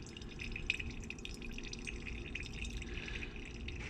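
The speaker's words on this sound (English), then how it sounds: "And the way this thing's bubbling," Liquid bubbling and trickling while draining from a 2004 Suzuki LTZ250 ATV, a faint continuous gurgle and drip with no voices.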